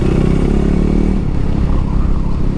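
A motorcycle engine revving loudly and close by, a steady throbbing roar with a brief rise in pitch early on, running throughout with no talking.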